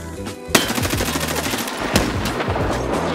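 Gunfire in the video game Escape From Tarkov, sustained rapid automatic bursts with loud sharp shot onsets and echoing tails, close and dominant throughout.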